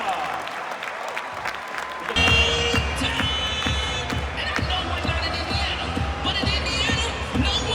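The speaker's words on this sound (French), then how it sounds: "Applaudissements, mesdames et messieurs, pour Victor Wembanyama." A large arena crowd in Paris applauds and cheers for Victor Wembanyama at a Pacers basketball game, a loud, dense wash of clapping that swells sharply after two seconds and holds steady with shouts mixed in.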